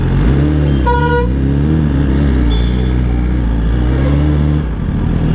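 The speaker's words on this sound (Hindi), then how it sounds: "बहुत ही ज़्यादा ट्रैफिक हो रखा है।" Dense market traffic with cars and motorbikes crawling along, engines rumbling steadily close by as one loud car horn blares briefly early on, with fainter tones heard later.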